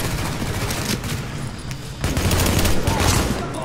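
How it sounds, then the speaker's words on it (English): Sustained rapid gunfire from the player's weapon in The Division, a dense, loud continuous barrage of shots with brief shifts in intensity, no clear talk over it. "It's actually glowing from how much I'm firing it."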